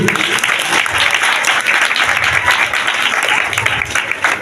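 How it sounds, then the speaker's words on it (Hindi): Hearty applause from a crowd at a church Christmas celebration, loud and continuous with a slightly uneven swell. "तो आइए अपने लिए पहले जोरदार तालियां बजाइए।"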